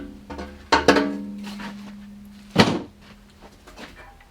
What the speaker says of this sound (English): We're going to get the door open here.